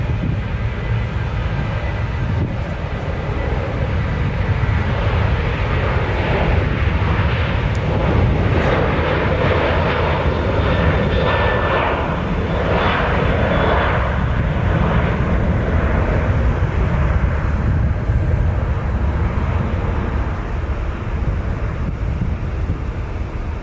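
A Southwest airliner at Nashville International Airport gives a steady, loud, broadband jet roar with wind buffeting, continuous and unbroken throughout, with no voices.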